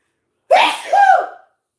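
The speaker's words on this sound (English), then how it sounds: "I had to sneeze." A single loud, close sneeze in two bursts, a sharp intake then an explosive release, standing alone with silence before and after.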